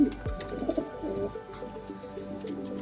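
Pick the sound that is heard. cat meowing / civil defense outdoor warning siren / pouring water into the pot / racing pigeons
racing pigeons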